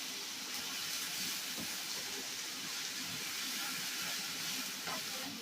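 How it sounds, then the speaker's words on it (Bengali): Around 300 grams of chopped onions fry in mustard oil with a soft, even hiss that holds steady throughout, faint and without talking. "এই পেঁয়াজ কুচিগুলো দিয়ে ভালো করে ভেজে নেব। লাল লাল করে ভেজে নেব।"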